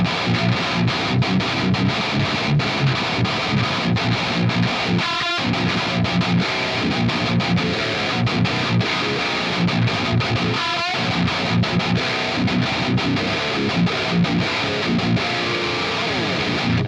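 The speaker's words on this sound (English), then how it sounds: "the drive pedal starts to come into play and you get a really nice aggressive sound out of the amp" A heavily distorted electric guitar through an amp's drive pedal plays aggressive, sustained chords with a thick, gritty crunch, loud and continuous throughout.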